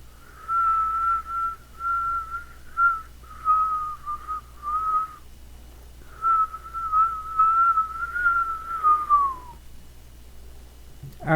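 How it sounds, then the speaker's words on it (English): A person whistles a slow tune alone, clear sustained notes in phrases with short pauses between them over a quiet low hum. "I even start whistling."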